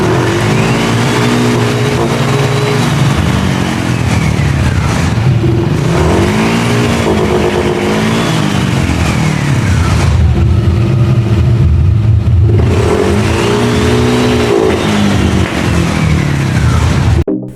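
A Yamaha NMAX V2 scooter engine with an ECU fault runs loudly and steadily after a part replacement, its pitch rising and falling in three or four rev cycles over a continuous rumbling drone.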